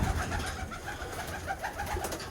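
Birmingham Roller pigeons coo softly and repeatedly inside a wire-floored loft, several overlapping low burbling calls close by over a steady hum of background noise.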